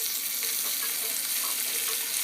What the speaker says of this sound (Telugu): ఇలా పోపు అంతా దోరగా వేయించుకుని